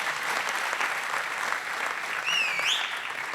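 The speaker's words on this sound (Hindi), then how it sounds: "इसके नाम की एक बार और ताली बजा दो यार जोर से" Audience applause at a lecture-series event, dense, even clapping from a large crowd throughout, with a shrill whistle rising over it near the end.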